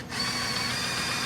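A power drill whirs in a steady continuous high-pitched drone in a DIY workshop during a budget mini camper trailer build, close and loud with no talk.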